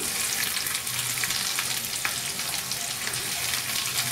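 Chopped onions and green chillies fry in a pan for a brown bread chilli dish, giving a dense continuous sizzle with light stirring scrapes, close and steady with no voices.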